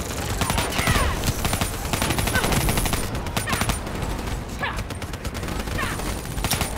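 Gunfire in Call of Duty Black Ops 3, loud continuous automatic bursts and rattling volleys throughout, with game voices talking over the shooting.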